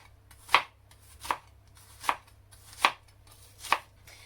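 A knife chops through slightly old red onions on a board, five sharp, evenly spaced cuts about one per second, close and clear over a low steady hum.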